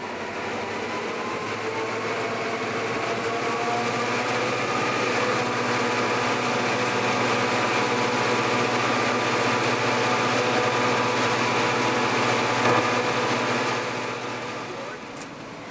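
An Algoma Central Railway train accelerates up a climb, a steady, loud rumble of rolling wheels and engine drone that holds for a long stretch before easing slightly at the end.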